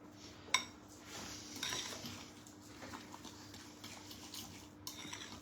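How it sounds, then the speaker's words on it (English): Banana cookie dough being stirred in a bowl, a faint scraping and clinking of a utensil against the bowl, with one sharp tap near the start, quiet and close with no talking. "So we're just going to give that a mix."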